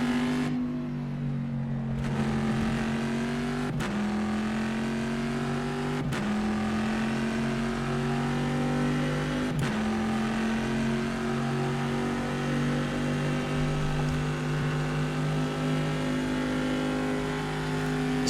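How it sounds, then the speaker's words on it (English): A V8 race car in the racing simulator rFactor 2 drones steadily at high revs, with several abrupt downshift blips breaking the engine note; continuous, loud and alone. "I just love that sound when you downshift"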